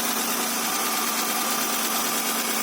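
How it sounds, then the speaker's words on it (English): A car engine runs steadily at idle on its first start after a rear main seal replacement, giving a loud, even, close mechanical drone with no speech. "The engine is running right now."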